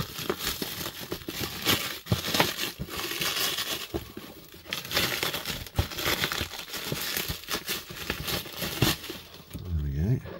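Black plastic wrapping torn and pulled off toy figures, continuous close crinkling and crackling with sharp tearing bursts throughout.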